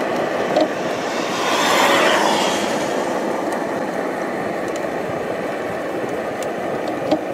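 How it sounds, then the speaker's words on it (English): Electric scooter with a 1000 watt brushless motor, heard as a steady broadband whir and wind rush while riding, with a brief swell near two seconds and no talking. "The torque output on the 1000 watts brushless motor is quite high."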